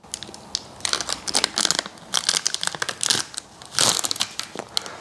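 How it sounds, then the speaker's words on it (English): Protective film peeled off the clear see-through visor of a RuRoc Berserker helmet, a close, loud run of crinkling and tearing plastic in irregular bursts for several seconds. "let's just peel that off."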